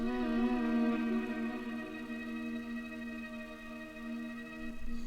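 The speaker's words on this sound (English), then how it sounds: "I have some strings that I played in right here" Bowed strings hold a steady, rich sustained chord at moderate volume, fading slightly toward the end with no voices.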